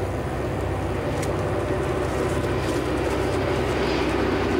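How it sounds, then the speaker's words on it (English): A commuter train passes near a canal park with a steady, broad rumble and rattle that stays loud throughout, without clear peaks. "And again, another train is coming."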